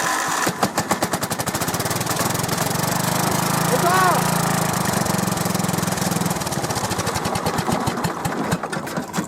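A small engine is started with the choke on. It sputters into a rapid, loud, steady putter, the firing pulses fast and even, while a voice talks over it partway through.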